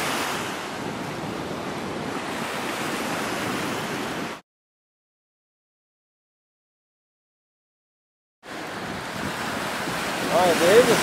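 Ocean surf breaking on a beach where oil and tar balls wash ashore, a steady loud broadband wash with wind buffeting the microphone, cut off by a few seconds of silence before the rumble of waves returns.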